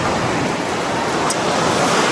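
Sea waves at Bauang Beach in La Union wash in a steady, full roar, with wind mixed into the broad surf noise. The sound is close and continuous, with no voices.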